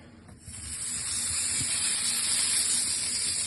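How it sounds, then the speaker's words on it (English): Steady hissing sizzle of diced pork fat rendering in a moderately hot pan, rising slightly in loudness after a brief quieter start and then holding constant. "give that a sizzle, render it and let it go golden and crispy"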